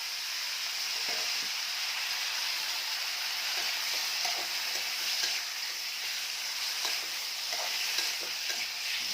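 Steady sizzling of spiced prawns frying in a pan, with occasional scraping stirs and soft clinks, close and fairly quiet, no voices.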